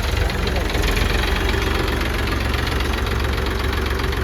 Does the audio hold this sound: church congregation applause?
no